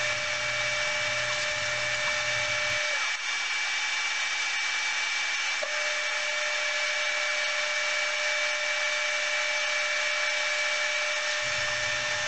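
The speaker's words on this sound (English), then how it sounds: "as I'm sanding it" Wood being sanded on a spinning lathe: a steady, loud mechanical whir with a constant abrasive hiss, unbroken throughout.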